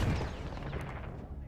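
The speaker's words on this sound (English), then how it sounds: "I got shot out of the air with a cannon" Cannon fire in Battlefield 1 sounds as a loud close blast at the start, decaying into rumbling, crackling gunfire tails.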